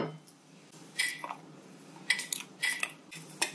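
Dried calendula petals, rosemary and lavender being stirred together in a bowl for soap making, with a handful of light clinks and scrapes of a utensil against the bowl, close and fairly quiet, separated by short pauses.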